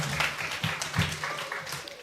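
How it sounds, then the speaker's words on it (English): Audience applause at a secondary school graduation ceremony in Carriacou, a moderate spread of clapping hands, somewhat distant and soft, with a voice or two mixed in under it. "Give them a round of applause"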